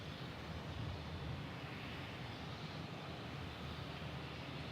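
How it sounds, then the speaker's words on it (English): A Southwest Airlines jet departs runway 13 left at Dallas Love Field, its engines a broad, steady rushing roar at moderate distance with no talk over it. "we got a Southwest Airlines departure"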